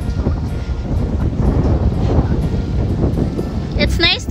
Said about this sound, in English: So windy, super windy.